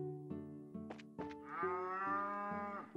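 Cattle mooing in the Trails in the Sky video game at Purzel Farm, several short low lowing calls followed by one long, loud drawn-out moo, clear and close with no talk.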